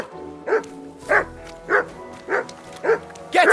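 A dog in Kingdom Come: Deliverance II barks six times at a steady rhythm, each bark close, loud and clear, with little else around it.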